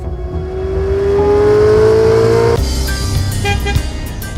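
Twin-turbocharged V8 of a Ferrari Roma revving loudly up close, pitch climbing steadily then dropping into a lower rumble with a brief crackle, no voices.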